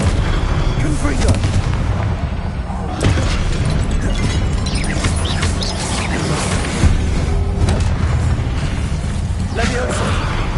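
Confringo blasting spell in a wizard video game, repeated sharp booming bursts over a dense, loud rumble of battle noise, with speech heard under the effects.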